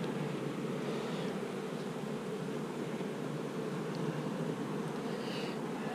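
Honeybees at an open hive full of nectar and drone larvae, a soft continuous hum of many bees close by, faint and even throughout with no talking.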